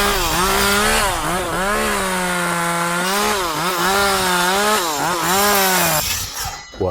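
A Milwaukee power saw cuts wood while a pony wall is rebuilt, a loud close motor whine with a wavering pitch through the cut that drops away at the end.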